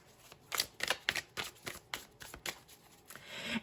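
Tarot cards being shuffled by hand, a run of quick papery riffles and soft slaps in uneven bursts, close and fairly quiet with no talking.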